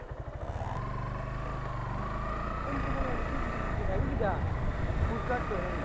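A motorcycle engine rumbles close by at a steady, low pitch while someone talks over it.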